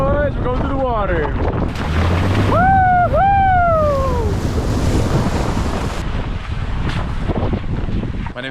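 A boat pushes through choppy water off Iceland, with constant roaring wind buffeting the microphone and rushing surf. Voices whoop and shout over the noise partway through.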